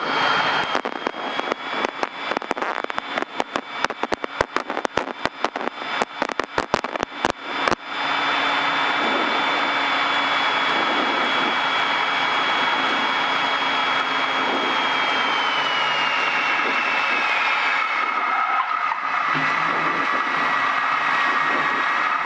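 Cessna 172 engine during a touch and go landing, a loud steady droning cabin roar that holds for most of the stretch, preceded by a choppy, crackling passage of rapid bursts.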